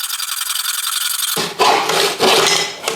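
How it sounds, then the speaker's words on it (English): Hacksaw cuts through a metal door bar held in a mitre block, loud and close, with a steady rasping stroke followed by several distinct back-and-forth saw strokes. "I'll then use a mitre block and hacksaw to make a nice straight cut."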